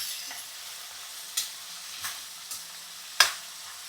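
Potatoes frying with curry leaves, green chilies and onions for poha: a faint, soft sizzle with a few sharp clicks of a spoon against the pan, spaced irregularly.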